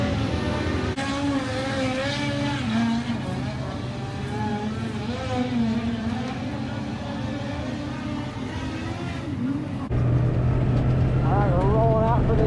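A USAC midget race car engine idles and revs as the car rolls out for a heat race, its droning, wavering note shifting pitch throughout, with a louder steady tone near the end and people talking underneath.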